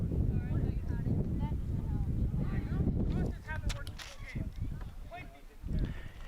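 Gusty wind buffets the microphone at an outdoor high school boys soccer game, a steady low roar beneath a commentator's talk that eases somewhat partway through.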